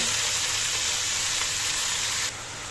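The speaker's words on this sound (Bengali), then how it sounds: "এই এই রসুন এত ভাজা ভাজা করবো না" Steady, loud sizzling of garlic frying in a hot pan, a constant crackling hiss that drops slightly in level near the end.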